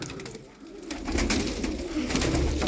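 A male Çorum bald domestic pigeon coos nearby in a low, throaty run of soft coos against a busy background of rustling and movement.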